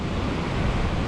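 North Sea waves surge against the Scottish coast in a steady, broadband roar mixed with wind buffeting the microphone, loud and continuous with no distinct breaks.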